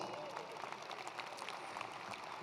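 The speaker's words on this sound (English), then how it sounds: "give them some applause" Faint, distant applause from the audience at a university commencement ceremony, a thin steady patter lasting a couple of seconds with a voice faintly audible underneath.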